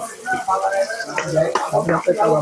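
Vegetables stir-frying in a little oil in a pan from a Kiam cooking set: close, loud sizzling broken up by scraping stirs at an irregular rhythm.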